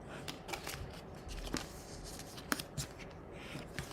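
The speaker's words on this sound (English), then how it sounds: "we're going to just fold along these score lines" Cardstock being folded along score lines for hexagon favor boxes, soft close paper rustles and creases with a few crisp snaps at a low, quiet level.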